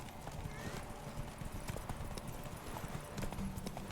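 Roach, the horse from The Witcher 3, gallops in a fast, continuous drumming of hooves during a race, with background voices and game ambience.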